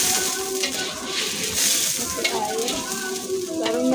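Tomatoes fry in a pan with a constant close sizzle and the scraping of a stirring spoon. The frying stays steady throughout, and no voices are heard.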